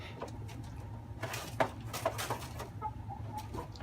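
Young three-month-old pullets, crosses of black Maran with ISA hens, give faint scattered clucks and short calls over a low steady background hum.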